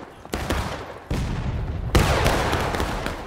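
Musket fire in the Civil War video game War of Rights, three heavy volleys of overlapping shots in quick succession, each a sharp crack trailing into rumbling echo, loud and close.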